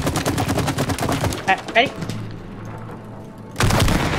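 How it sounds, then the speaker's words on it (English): Grenades going off in the co-op video game It Takes Two, a fast series of sharp rhythmic bangs like rapid fire, then a quieter gap and a fresh loud burst, with a player's voice speaking briefly. "Let's see if we can make a grenade line."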